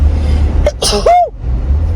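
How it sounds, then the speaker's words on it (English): A single sharp sneeze bursts out over steady background hum, with a brief intake before it and a tonal squeak at the end. "I'm gonna start sneezing"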